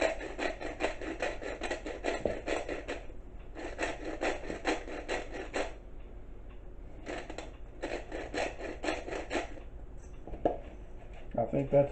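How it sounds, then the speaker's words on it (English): A pepper grinder twisting fresh black pepper in a kitchen, giving repeated bursts of gritty rasping separated by short pauses, close and fairly quiet. "So I'm just going to grind and grind until I think we have enough."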